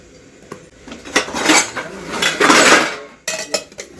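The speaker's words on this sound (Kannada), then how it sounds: "ಒಂದು ಕುಕ್ಕರ್ ಇಟ್ಕೊಂಡಿದ್ದೀನಿ." A pressure cooker is set down among metal pots and pans, giving a few loud close clanks and rattling scrapes of cookware with short pauses between.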